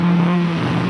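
A flying car taking off gives a steady, loud engine-like drone with a constant low hum, running unbroken throughout, like a vehicle idling or revving up.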